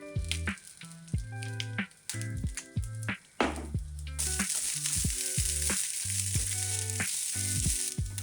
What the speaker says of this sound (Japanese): ある程度火が通ったらご飯を加えてよく混ぜ合わせる。